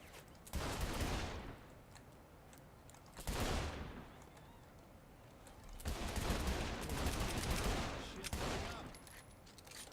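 Bursts of rapid gunfire in the video game Saints Row: The Third, three loud volleys separated by short pauses, crisp and close with no talking.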